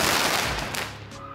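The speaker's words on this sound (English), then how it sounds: "That was fireworks." Fireworks going off close by, a loud dense crackling barrage of rapid bangs with no clear gaps, easing slightly near the end.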